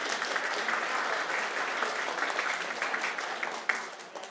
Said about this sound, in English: Please give a big round of applause to the judges and the organizing team.